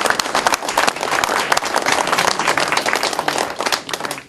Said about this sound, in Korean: 다 같이 우리 박수 한번 치고 격려합니다